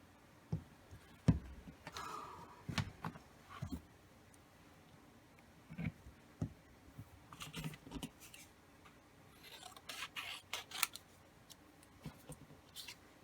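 Scissors snip paper for a photo album in quiet, scattered cuts and soft rustles, close and faint, with clusters of short clicks spread over the stretch.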